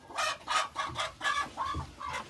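A laying hen sitting on her nest clucks in a rapid run of about eight short, evenly spaced calls, close and fairly loud, with no talking.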